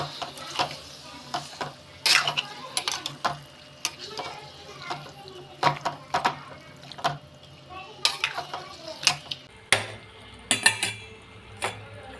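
Half a kilo of mutton stirred into softened onions in a pan for mutton curry, with repeated scraping, clinking strokes of a utensil against the metal over a soft sizzle, close and steady throughout.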